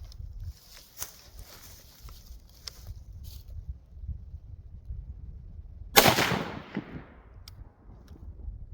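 An overgassed Sig MCX Spear LT rifle fires AAC 62 gr ammunition: one loud, sharp shot rings out with a decaying echo, after quieter outdoor background with faint distant pops.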